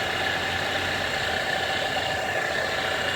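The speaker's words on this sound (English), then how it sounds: "The car is just idling" A car engine idles with a steady, even hum and a faint mechanical vibration; the serpentine belt has gone wrong and the coolant reservoir is open to bleed air. The sound runs unbroken throughout with no voices.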